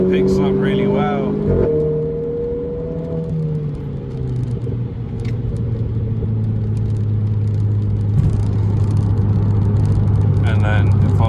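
Renault Clio RS in automatic sport mode accelerating hard from inside the cabin, a loud steady engine drone rising in pitch then settling into a sustained higher note, with a driver talking over it throughout.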